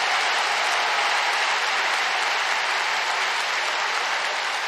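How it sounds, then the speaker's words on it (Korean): Dense, even clapping from a church congregation at a Korean Easter union worship service, sustained and loud throughout with no talk over it. "이때 박수를 치는 겁니다,"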